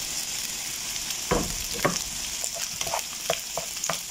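Rice stir-fried with carrots and green beans in a pan makes a steady sizzle, with several distinct scraping and clattering stirs of a spatula close by and no talking.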